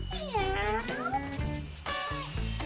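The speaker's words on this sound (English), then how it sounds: "That is just a cat." A cat meows in a video game, several drawn-out, whiny cries that follow one another closely, loud and near.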